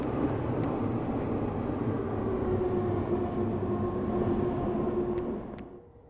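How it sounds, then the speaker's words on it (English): A passing train gives a loud, steady rumbling roar with wheel and rail noise that fades out near the end, heard up close without talk. "It's a little hard to hear that over the train."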